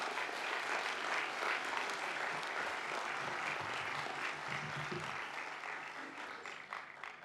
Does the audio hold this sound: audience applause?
yes